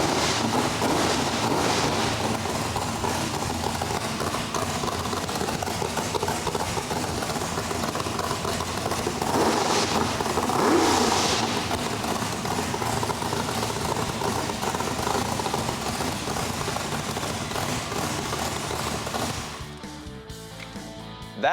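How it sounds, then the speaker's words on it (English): Propeller engine, just started after troubleshooting, runs loud and steady with a constant rumbling drone for about twenty seconds before dropping off sharply near the end. "That is a successful startup."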